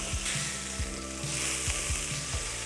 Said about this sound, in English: All of our sides are beautifully seared, but I'm also going to go further and sear our ends as well.